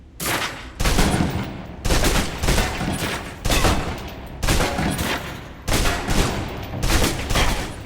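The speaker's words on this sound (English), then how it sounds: "Now, let's move on to the submachine gun. Now let's empty the clip." A submachine gun in the game Alpha Protocol fires long, loud bursts, about six sustained volleys separated by brief pauses, emptying a full magazine with no talk.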